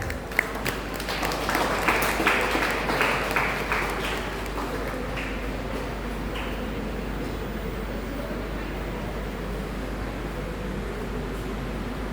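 Applause from an audience at a B.Ed. college lecture series, a burst of clapping in the opening seconds that fades into a steady hum of room noise and fan-like hiss.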